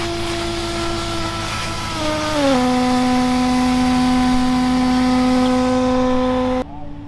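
Off-road Jeeps with V8 engines on a rocky trail, a steady droning engine note whose pitch dips and then holds, close and fairly loud, ending abruptly.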